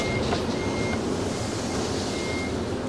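A truck reversing while hitched to a wood chipper gives a couple of faint, thin backup beeps over a steady wash of engine and outdoor noise.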